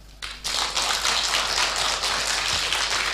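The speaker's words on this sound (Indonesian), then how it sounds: "tepuk tangan yang meriah sekali lagi untuk Mas Noel Leto" A crowd bursts into loud, sustained applause for speaker Mas Noel Leto at a talk on creativity, starting abruptly and holding steady throughout without any speech.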